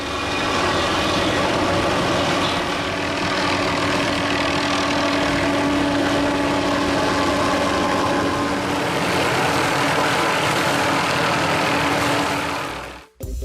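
A helicopter carrying a tree-trimming saw flies near power lines, its engine and rotor making a loud, steady drone that holds throughout and cuts off abruptly at the end.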